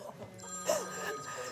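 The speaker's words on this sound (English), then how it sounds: "Is that my phone?" A mobile phone rings in a television shopping studio, an electronic ringtone with a steady sustained tone and a brief louder chirp in the middle, with no one speaking over it.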